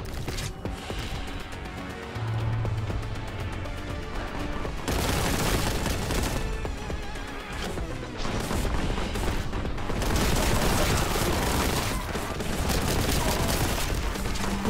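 Heavy gunfire and booming explosions in the video game Warhammer 40,000: Boltgun, sustained loud volleys of shots with thuds and crashes, continuous across the clip with brief lulls.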